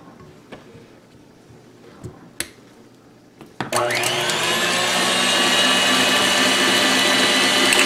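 A food processor whipping butter toward a fluffy spread starts after a few quiet knocks and scrapes, then runs as a loud, steady motor whir for several seconds, close and alone.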